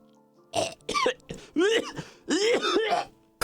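A voice imitates violent coughing during a tabletop role-playing game session: a series of harsh, close, rasping coughs and throat-clearing bursts in quick succession.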